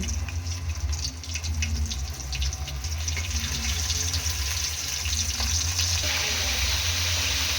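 Pieces of dory fish frying in hot cooking oil make a continuous close sizzle, crackling brightly at first and then settling into a steadier, louder hiss with no voices.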